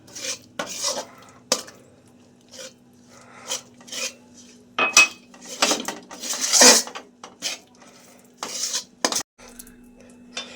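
Rice flour stirred into a hot milk paste over a low flame, heard as irregular bursts of a spoon scraping and clinking against the pan, close and fairly loud, with quiet gaps between strokes.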